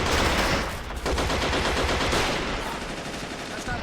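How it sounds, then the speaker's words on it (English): Rapid autocannon fire in Men of War: Assault Squad 2 at the battle of Kursk, 1943, a dense continuous rattle of bursts lasting several seconds, loud and steady with no talk over it. "Autocannon firing from behind."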